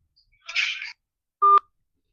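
A phone number is dialed: a brief burst of soft rustle, then a single clear keypad tone, alone in otherwise quiet surroundings.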